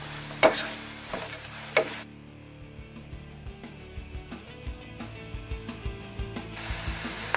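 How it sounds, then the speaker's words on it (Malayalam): Onions with ginger paste being stirred in a pan, a soft steady sizzle under repeated scraping clicks of a spoon against the metal, with two sharper knocks near the start. "ഉള്ളി വഴണ്ട് വരുന്നിടം വരെ നന്നായി ഇളക്കി കൊടുക്കണം"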